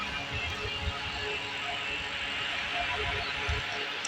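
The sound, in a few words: LR-2018 folding fan with LED light running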